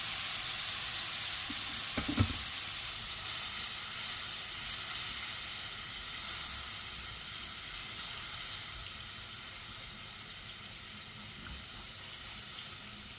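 A chicken curry simmers and sizzles steadily in a pan, close by, with a continuous hiss and a brief clatter early on. No one speaks.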